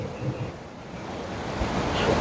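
Sea waves roll onto the beach at Harihareshwar, a continuous near wash of surf with wind buffeting the microphone and soft swells rising toward the end.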